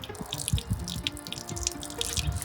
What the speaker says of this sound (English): the leak is either in the back or on the bottom of the water tank